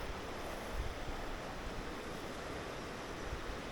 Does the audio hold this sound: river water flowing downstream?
yes